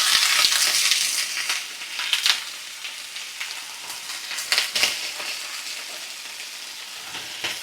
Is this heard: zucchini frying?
yes